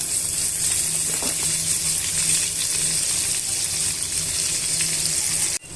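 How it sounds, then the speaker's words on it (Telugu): Chopped onion pieces dropped into hot oil in a frying pan with roasted ingredients for a brinjal peanut curry, a loud, continuous close sizzle and hiss that cuts off sharply at the end. "ఇప్పుడు ఇవన్నీ కూడా వేగిన తర్వాత మనం తరిగి పెట్టుకున్న ఉల్లిపాయ ముక్కల్ని వేసుకోవాలి"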